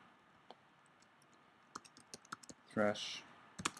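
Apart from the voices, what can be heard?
typing on a computer keyboard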